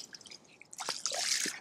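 Water splashes and drips over a freshly landed, still-lively mirror carp of around sixteen pounds, with bright close splashing and trickling that swells after a quieter start.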